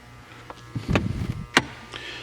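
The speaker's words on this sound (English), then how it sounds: "So this is a power liftgate button, so it opens and closes automatically." A 2008 VW Touareg V8 power liftgate opens automatically: a brief motorized hum with a couple of sharp latch clicks and thumps, close and fairly quiet.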